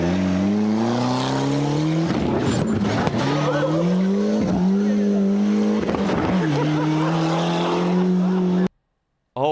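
A Ford Sierra Cosworth rally car drives hard nearby, its engine howling and rising through gears with brief lifts and shifts, tires scrabbling on the stage, before cutting off abruptly near the end.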